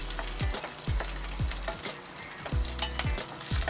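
Garlic fries in hot cooking oil, a steady crackling sizzle punctuated by repeated low thumps of stirring or utensil strikes against the pan, close and fairly loud with no voices.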